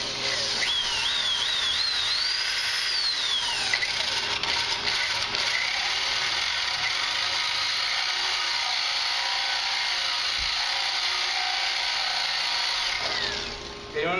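A power drill with a 1.5 inch boring bit bores a hole halfway into a wooden board, the motor whining up to speed and then grinding steadily and loudly through the wood before stopping.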